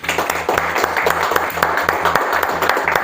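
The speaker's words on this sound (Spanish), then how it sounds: "Démosle un aplauso al Señor." Congregation applauding at a church service, a steady wash of clapping sustained for a few seconds over a rhythmic low musical pulse in the background.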